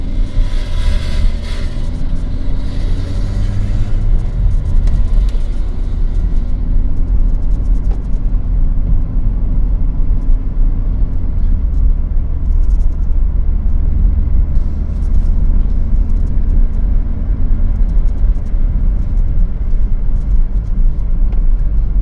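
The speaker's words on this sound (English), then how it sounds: "the sound of the engine, of the Volkswagen engine" A steady, low Volkswagen engine rumble runs continuously, loud and close, with a deep droning hum and no voices.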